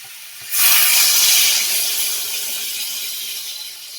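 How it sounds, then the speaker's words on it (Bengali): Water is poured into a pan of sizzling spice masala for a fish curry with potato and pointed gourd, setting off a sudden loud hiss that stays strong and slowly eases. "মশলাটা কষানো হয়ে গেছে, এবার জল দিয়ে দেবো।"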